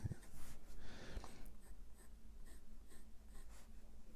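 A fountain pen with a medium nib writes on paper, giving faint, soft scratchy strokes in short bursts, close and quiet, with no talking.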